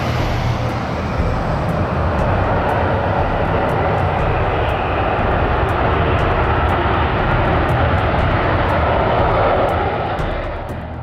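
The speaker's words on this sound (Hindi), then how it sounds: "तुर्किया के पहले 5th जनरेशन फाइटर जेट कान ने अपनी पहली परवाज भरी।" Turkey's KAAN fifth-generation fighter jet flies on its maiden test flight, a loud, steady engine roar that holds for several seconds and eases slightly at the end, with no voices.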